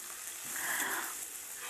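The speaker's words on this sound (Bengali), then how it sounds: "এই পুরো পেঁয়াজটাকে তেলের সাথে আমি একটু লাল লাল করে ভেজে নেব।" Two large onions, chopped, fry in oil with a soft, steady, even sizzle that stays faint and unbroken, with no talking.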